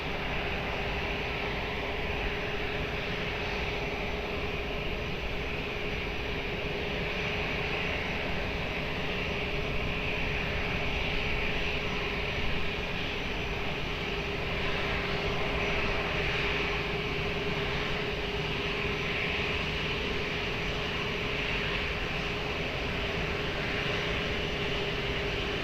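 A fixed-wing airplane takes off from runway 20 at Lisbon Airport. Its engine roar is steady, broad and continuous throughout, a constant drone with a faint tonal hum and no voices.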